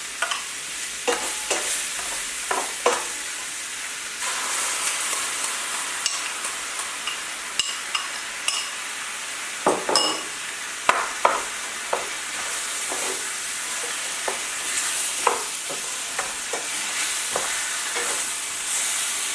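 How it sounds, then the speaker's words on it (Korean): Spicy Korean stir-fried fish cake (eomuk bokkeum) frying in a pan with sauce poured in, a continuous loud sizzle broken by repeated sharp scrapes and taps of the spatula at an uneven pace. "어느 정도 볶아줬으면은 아까 소스 만드는 거 있죠? 그거를 부어주세요."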